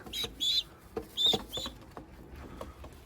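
Young Hünkari chicks peep and cluck in short high chirps, a few quick calls in bursts followed by quieter patter and rustling, heard close.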